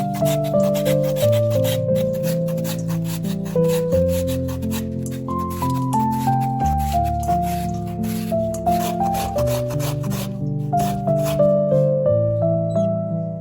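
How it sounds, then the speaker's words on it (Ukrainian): One kilogram of carrots is rubbed against a kitchen grater for Korean-style carrot salad, giving steady, rhythmic rasping strokes under continuous background music. "беремо 1 кг моркви і натираємо на терці"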